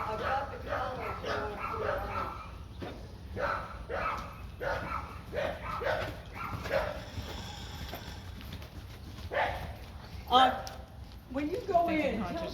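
A dog gives a series of short barks and yips at a fairly close distance during outdoor training, mixed in with people talking and some background noise.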